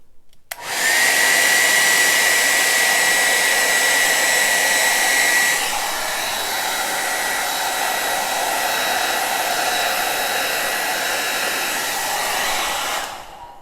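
A hair dryer blows white acrylic paint across a Dutch pour painting, a loud, close, steady whooshing whir that shifts to a slightly different tone partway through before cutting off.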